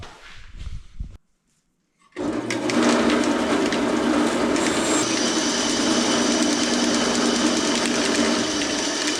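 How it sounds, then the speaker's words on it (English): A bandsaw cuts through a brass fitting with a steady, close, loud grinding whine that starts abruptly after a short pause and holds evenly to the end. "So I'm going to cut this brass off of here."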